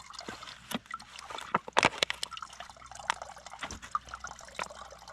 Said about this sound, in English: So you collect the dirty water in here, and then you squeeze it through,